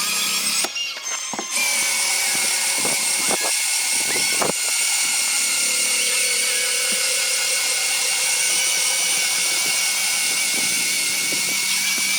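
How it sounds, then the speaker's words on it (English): A cordless drill spinning a stripe-off wheel to strip old cracked vinyl wrap from a car, a loud, sustained high-pitched whine with brief pauses and restarts early on, then running continuously. "My battery and my drill are about to overheat again"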